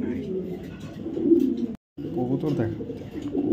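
A blue saddle racer pigeon, a male, coos low and throaty close by, under continuous talking with a brief silent break in the middle.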